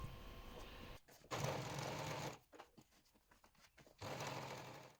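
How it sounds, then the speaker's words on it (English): A sewing machine runs a top straight stitch along the outside of a fabric baguette handbag, in two steady bursts of close, continuous whirring separated by a quiet pause with a few soft handling clicks. "sew a top straight stitch right on the outside of the bag"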